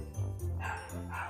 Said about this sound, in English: there goes my dog barking again